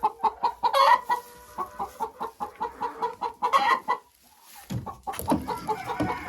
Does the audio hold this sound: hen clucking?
yes